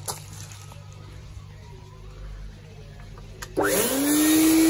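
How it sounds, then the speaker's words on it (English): A pond vacuum used to clean a Nexus 220 filter and skimmer switches on near the end, jumping from quiet background hum to a loud, steady whine with rising pitch. "pick up the old pond vac,"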